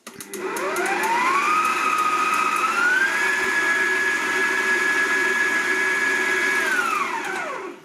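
Stand mixer whipping yogurt cake batter at speed 3, a steady loud motor whine that rises as it spins up, holds for several seconds, then winds down, with no talking.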